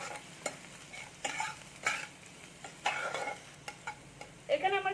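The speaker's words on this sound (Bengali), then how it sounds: "এবার পেঁয়াজ আর আদাটাকে আমি একটু ভালো করে ভেজে নেবো" Onion and ginger sizzle softly in a pan while a utensil stirs and scrapes them in short, irregular strokes, fairly close and quiet.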